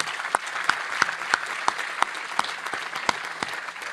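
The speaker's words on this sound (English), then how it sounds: "Let's have another round of applause for all of our panelists and our speakers." Scattered applause from a conference audience honoring panelists and speakers, with distinct individual claps popping out at a loose, irregular rhythm over a thin background of clapping.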